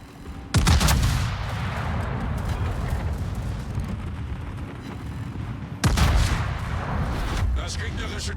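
Secondary guns of the battleship Schlieffen firing in World of Warships, two sharp heavy booms several seconds apart, each decaying into a rumbling roar of battle ambience.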